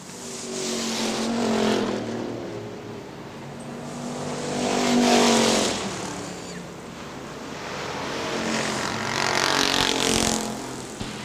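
Factory stock race cars running on the Hartford Speedway Park oval in Michigan, a continuous engine roar that swells and fades in repeated passes, loud and somewhat distant, with no talk.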